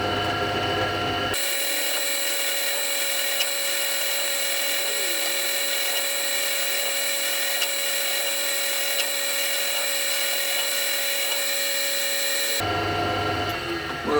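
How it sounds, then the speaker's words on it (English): Power drill boring pilot holes for switches and screws through a 1958-style Flying V electric guitar body, a steady whining drone held for about eleven seconds, loud and close, with no talking. "So what I can do now is drill through pilot holes for all the switches, screws and things like that."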